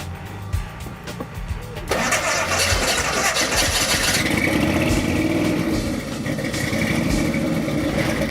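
A street rod at a car show in Haysville, Kansas, with fuel pumps whirring, then the engine cranking and catching about two seconds in, settling into a loud, rumbling idle close by.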